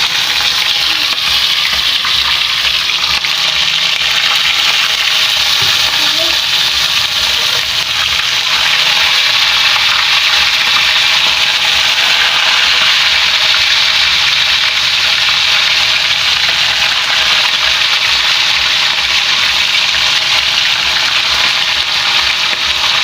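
Small galunggong fish (scad) frying in oil give off a loud, steady, hissing sizzle that runs unbroken throughout, with no talking.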